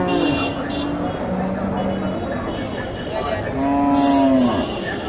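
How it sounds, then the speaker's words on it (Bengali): A large Friesian cow moos twice, long low calls rising out of a busy outdoor cattle market with chatter and passing traffic. "বেশ বড় সড়ো একটা গাভী"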